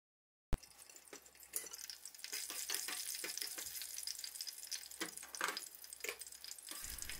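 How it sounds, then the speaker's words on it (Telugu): Curry leaves and green chillies frying in hot coconut oil in a pan, a steady close sizzle with crackling pops and occasional spatula scrapes, no talking. "ఈ కోకోనట్ ఆయిల్లో కరివేపాకు మరియు పచ్చిమిర్చి కాస్త మధ్యలో చిన్న ఘాటు పెట్టి వేయించండి"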